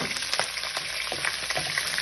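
Onion fries and browns in a pot for beef stew, with potato and carrot to follow. A close, dense, continuous sizzle runs throughout, with light crackles and no voices.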